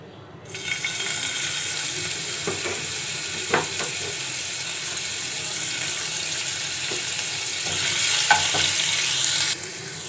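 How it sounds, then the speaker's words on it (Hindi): Garlic paste sautés in hot oil, a close, continuous sizzle that swells briefly and then holds steady. Occasional spatula taps and scrapes sound against the pan, with no talking. "इसमें गार्लिक पेस्ट ऐड करेंगे, और गार्लिक को हमने सौते करना है"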